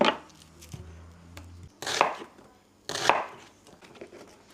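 An onion being chopped on a board, a few sharp knife strikes spaced out over a few seconds, close and clear with quiet gaps between cuts.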